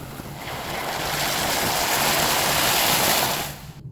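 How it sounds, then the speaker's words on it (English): Hot sand-cast aluminium is plunged into water for quenching, giving a rushing, seething hiss. It swells over a second, holds loud and steady, then cuts off. "And here we go for the quench."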